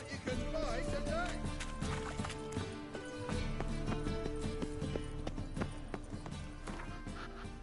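Roach the horse galloping in The Witcher 3, with repeated rhythmic hoofbeats under game music and a voice talking at times.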